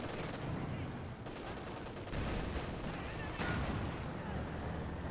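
Light machine guns firing in a strategy video game battle, dense continuous rattling gunfire with booming impacts, somewhat distant and moderately quiet.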